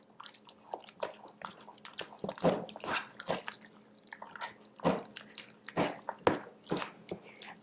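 Buffalo chicken dip with diced celery being stirred together, giving close, irregular wet squishing and soft thick scraping strokes with brief pauses and no talking.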